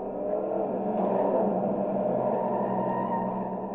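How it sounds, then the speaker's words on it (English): In The Simpsons Hit & Run video game, a car engine holds a steady, buzzing drone as it accelerates, its pitch rising slightly, heard alone and moderately loud. "Sweet acceleration"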